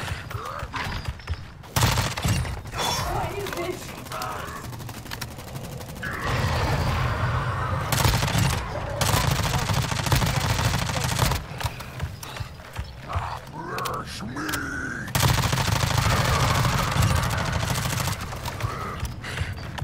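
Bursts of rapid automatic gunfire in Warzone Zombie Royale, clattering in several loud volleys separated by short pauses, mixed with hectic game sounds.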